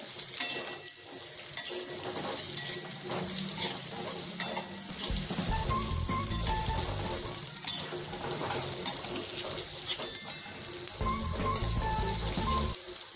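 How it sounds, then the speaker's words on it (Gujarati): Gunda (glue berries) frying in hot oil in a pan, a steady close sizzle and crackle with occasional stirring clatter, no voices. "હવે આપણે ગુંદાને તેલમાં મૂકી દઈશું. આવી રીતે હલાવી લેવાના છે."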